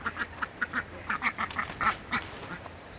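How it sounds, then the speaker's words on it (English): A domesticated duck quacking repeatedly while being caught, rapid loud close quacks in an irregular series, with faint background rustle. "Catching the duck."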